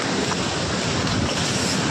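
A monsoon waterfall gives a steady, loud roar of rushing water, broadband and unbroken for the whole stretch, with wind buffeting the microphone and no voices.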